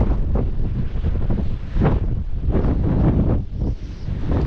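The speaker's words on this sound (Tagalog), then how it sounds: "medyo malakas po ang hangin" Strong wind buffets a microphone out at sea on a fishing trip, loud low rumbling gusts swelling and easing continuously, with no other sound standing out.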